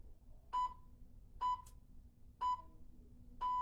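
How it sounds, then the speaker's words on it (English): Four short electronic beeps from a workout timer counting down, evenly spaced about a second apart, clear and moderately loud over a quiet background, with the last tone held slightly longer. "Listen out for the timer countdown from 3."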